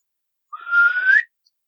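A person imitates a whistle heard in the woods near a tent, a single clear rising tone lasting under a second, loud and close against silence.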